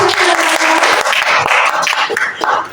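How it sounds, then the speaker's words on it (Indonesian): A classroom or school audience of teachers claps together at a positive-culture dissemination session, a short burst of close, uneven applause with a few louder individual claps standing out. "Tepuk tangan dulu untuk Bapak Ibu"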